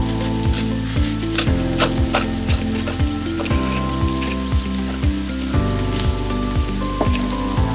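Pepper chicken sizzles loudly in a pan with curry leaves and salt while a utensil stirs it in repeated scraping strokes, a steady frying hiss running underneath throughout.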